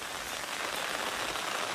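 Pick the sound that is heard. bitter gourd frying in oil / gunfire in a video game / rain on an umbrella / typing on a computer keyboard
rain on an umbrella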